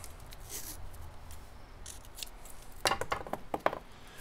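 Quiet snipping and rustling from scissors cutting green tape near the end, several short crisp cuts following soft handling noises, with no talking.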